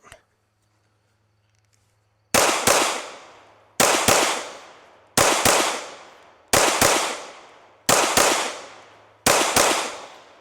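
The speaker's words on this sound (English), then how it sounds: "So we're at 7 yards here. We're just gonna shoot some doubles" A Glock 19 pistol shot in doubles at 7 yards: six loud pairs of sharp, closely spaced cracks, each pair ringing out and decaying, evenly spaced after a quiet start.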